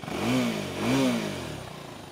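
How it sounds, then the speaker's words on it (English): Revving a Husqvarna Svartpilen 401 motorcycle higher up the rev range in two quick throttle blips that rise and drop back toward idle, loud and close-up, with no speech. "this is higher up in the rev range."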